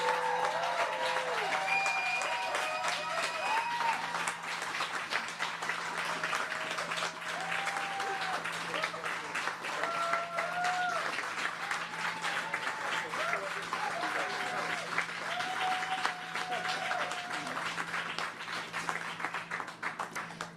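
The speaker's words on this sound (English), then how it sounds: "please join me in applause for the Leader of the Green Party of Canada" Supporters at an election night rally applaud the Green Party of Canada leader, a sustained crowd clapping with cheers and whistles rising over it, steady and fairly loud for about twenty seconds.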